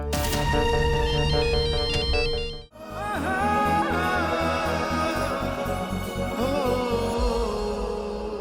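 A phone ringtone plays loudly and continuously as a call goes out to the boss at the office, a repeating melodic tune that briefly cuts out and then resumes, with no voices.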